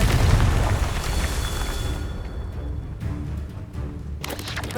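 A Confringo fire spell detonates in Hogwarts Legacy, giving a loud, deep booming burst with a rumbling tail that fades and then flares again near the end.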